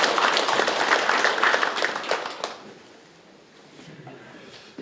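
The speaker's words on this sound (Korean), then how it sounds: "우리 박수 한번 주십시다 이제." Residents at a community meeting with the county head clap for about two and a half seconds, moderately loud, then the clapping dies away into quiet room noise.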